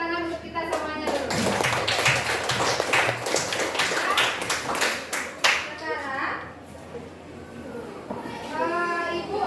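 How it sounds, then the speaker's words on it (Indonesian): A classroom group of children claps hands together in a brisk, dense round of applause that tapers off, with voices talking over and after it. "kita kasih dulu tepuk tangan untuk kita semuanya dulu"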